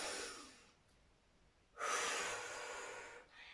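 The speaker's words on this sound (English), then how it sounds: "Take a deep breath in and out." A deep breath in and out during a low-impact exercise routine for older adults, heard as a faint inhale followed by a louder, longer exhale up close, with no talking.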